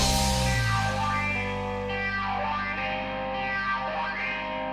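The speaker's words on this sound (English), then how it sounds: "that room reverb, that's really not too bad" Electric guitar chords ring out through a room reverb effect, the notes blooming and decaying with a short ambient tail, steady and fairly loud.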